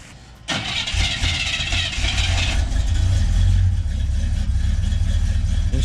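An old car engine with a cam and headers cranks and fires after a brief quiet moment, then settles into a loud, rough, lumpy idle close by in cold weather, with no talk over it.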